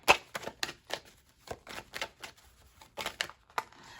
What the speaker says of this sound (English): Some cards flipped over in the deck.